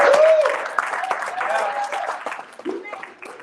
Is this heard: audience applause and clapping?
yes